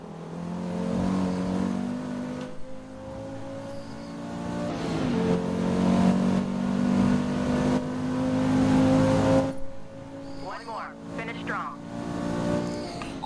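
A race car engine lapping a track in Forza Motorsport, a loud, steady droning roar that climbs and drops with gear changes and corners throughout, with someone talking over it.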